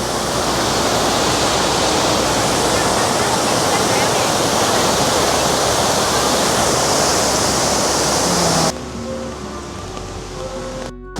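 A waterfall in Cat Cat Village, Sa Pa, roars as a loud, dense, continuous rush of falling water for about nine seconds before it cuts off abruptly to quieter background sound.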